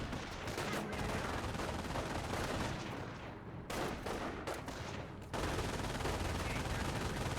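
Machine gun fire in a real-time strategy war game tournament match: dense, sustained rattling bursts of gunfire with a couple of brief lulls, loud and continuous throughout.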